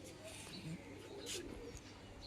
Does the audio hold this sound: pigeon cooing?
yes